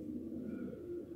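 Ornamental pigeons coo softly at a pigeon show in Lipno, a faint, low, continuous murmur of cooing with no talk over it.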